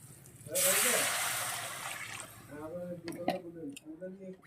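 Water poured into a pan of oil-fried spice mix for a Bengali tilapia curry bursts into a loud hissing splash, fading over a couple of seconds, then a voice talks over the simmer.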